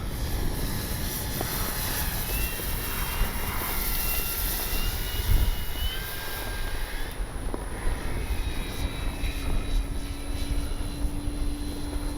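RC F4U Corsair warbird model plane flying at full speed, a steady droning engine and propeller whine under constant wind rush, staying fairly near and even throughout.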